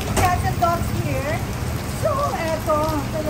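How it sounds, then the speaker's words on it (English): Heavy rain pours steadily on a street in Bangkok, a dense continuous hiss with people talking over it throughout. "brave the rain for this"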